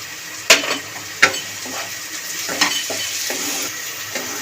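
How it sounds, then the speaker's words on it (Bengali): Green chili paste frying in a pan for chicken kosha, a steady sizzle under sharp clinks and scrapes of a spatula stirring against the pan, no talk. "লঙ্কা বাটাটা দিয়েও ভালো করে নাড়ি ছাড়িয়ে করে নিয়েছি ভেজে নিয়েছি"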